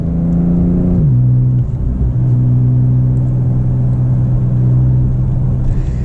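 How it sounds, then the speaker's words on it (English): Porsche 992 Turbo S engine during a manual paddle downshift, a steady close-up rumble that drops in pitch then settles into a strong, even drone with a brief blip of revs, no voices over it. "Let's see if I downshift in this paddle."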